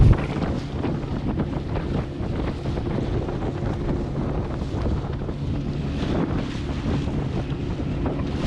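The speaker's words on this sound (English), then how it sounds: "Boy, it's windy out here." Wind gusts over a lake while fishing from a boat, a steady roaring rush with buffeting across the microphone and a faint lapping of water underneath, no voices.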